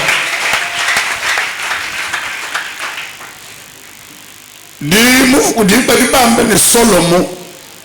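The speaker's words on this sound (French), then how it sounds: "Applaudissez fort. Applaudissez pour le Seigneur." A church congregation applauds for several seconds, fading out, followed by a loud preacher's voice speaking over a noisy background during a worship service.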